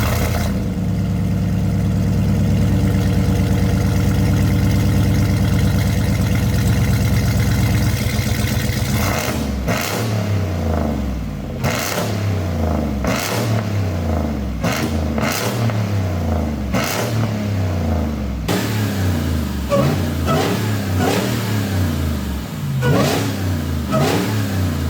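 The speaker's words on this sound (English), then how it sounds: "The first thing I'm gonna do is I'm gonna fire this thing up." A loud Jeep engine with a Demon engine starts and rumbles steadily at idle, then roars through a series of sharp, repeated revs, each climbing and falling back.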